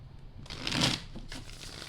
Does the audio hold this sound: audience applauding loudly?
no